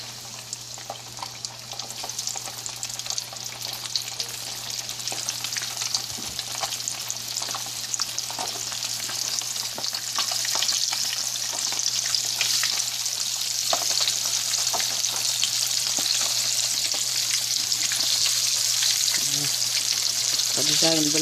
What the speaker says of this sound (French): Alors je vais mettre ça à frire.